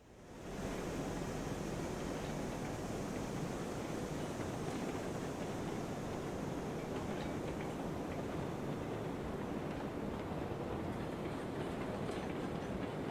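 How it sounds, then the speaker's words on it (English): Long freight train in the Railroads Online game rolling along the rails as a loud, steady broadband rumble with a faint rhythmic clatter, with no talk. "Once that train starts going down that hill."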